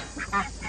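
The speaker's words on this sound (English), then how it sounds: "We got the big ducks in here. They're just huge now." Large farm ducks quacking in a pen, a few short nasal calls in quick succession, fairly close and moderately loud.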